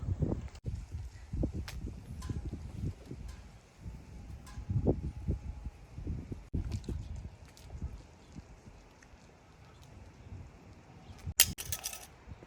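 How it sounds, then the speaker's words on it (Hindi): Strong, cold outdoor wind buffets the microphone in uneven low rumbling gusts, with faint knocks and a sharp clatter near the end. "काफ़ी ज़्यादा हवा चल रही है"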